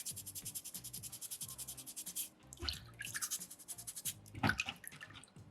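Sandpaper rubs a small soapstone loon carving in quick, even back-and-forth strokes, close and rhythmic, pausing briefly before the scraping resumes with a few sharper scuffs.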